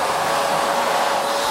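Miele C2 Compact Allergy vacuum cleaner running on carpet, a loud, steady whooshing roar of suction and motor with no other sounds.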